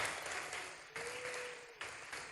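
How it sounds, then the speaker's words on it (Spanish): A crowd at a political event in Mar del Plata applauds the attending political authorities, a steady wash of distant clapping with a couple of abrupt swells, no talk over it. "Un fuerte aplauso para todos ellos"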